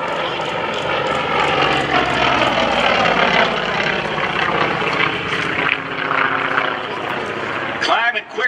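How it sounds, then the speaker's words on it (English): A Chinese-built Nanchang CJ-6A propeller aircraft diving at a military open house air show, its loud sustained engine and propeller drone roaring steadily, with a pitch shift and a brief gust of crowd or wind noise at the end. "The aircraft he's flying, as you can see it diving in from the left, is a Chinese-built Nanchang CJ-6A."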